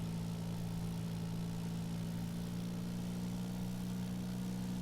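A simulated airplane engine in the X-Plane flight simulator holds steady at 2050 RPM, making a continuous, even, loud droning hum with no change in pitch and no voices.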